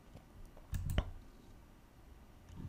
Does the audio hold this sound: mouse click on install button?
yes